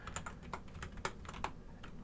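Fast, uneven typing on a computer keyboard as country names are entered in a geography game, with a steady stream of close, light key clicks and no voices.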